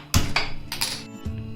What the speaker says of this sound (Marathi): तवा तापत ठेवते.